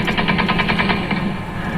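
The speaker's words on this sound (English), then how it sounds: "This morning, more chaos as gunfire rang out." Rapid bursts of gunfire crackle at Kabul airport, a quick, rattling volley of repeated shots at moderate distance over a busy background.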